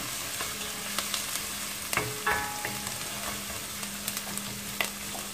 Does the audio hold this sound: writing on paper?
no